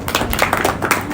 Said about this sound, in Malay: terima kasih kepada masyarakat. Tepuk tangan sikit.